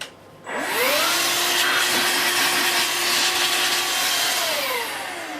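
A Vax Air Cordless Handheld H85 20V bagless vacuum cleaner switches on and runs at full suction, a loud, close, steady motor whine with a high airy rush that holds evenly before easing slightly at the end.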